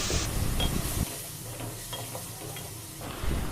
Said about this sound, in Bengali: এখন মশলাগুলো খুব ভালো করে মিশিয়ে নিব।